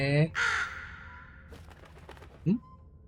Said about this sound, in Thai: มีอีกาอยู่ข้างบนฮะ